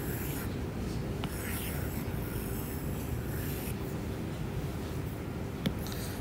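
Chalk or marker scratching across a board during a mechanics of materials lecture, a few short faint strokes over steady room hiss.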